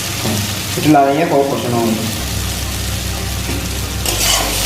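Fish curry masala sautéing in a pan, a continuous close sizzle and fry with stirring scrapes, while a person speaks briefly over it early on.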